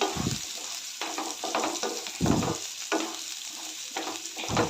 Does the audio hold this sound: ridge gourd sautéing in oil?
yes